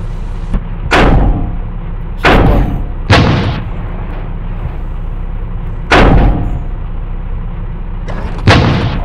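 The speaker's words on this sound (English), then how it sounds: "We shot that cabbage eater's tank." Tank cannon fire in the video game War Machines: Tank Clash, five heavy booming shots spaced a couple of seconds apart, each a loud close blast with a short decay over a steady low rumble.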